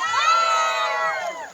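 Children shout and cheer together in a sustained, loud crowd roar as a campfire is lit at a youth summer retreat campground, the voices trailing off toward the end.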